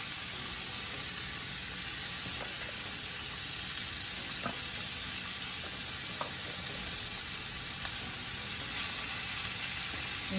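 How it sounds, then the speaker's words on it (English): Shaved beef sizzling in a hot skillet on medium-high heat for Philly cheesesteaks, a steady, moderately quiet frying hiss with occasional small pops and crackles, heard alone without speech. "I'm getting my skillet nice and hot, ready to receive this shaved beef"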